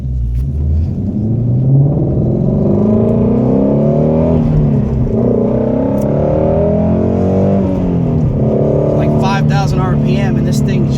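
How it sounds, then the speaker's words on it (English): A 2016 Shelby GT350 Mustang on a country road, its engine and controllable exhaust rumbling loudly as it accelerates through rising and falling revs, heard from inside the car. "Hopefully y'all can hear what the car is doing, because the exhaust on the outside is absolutely brilliant."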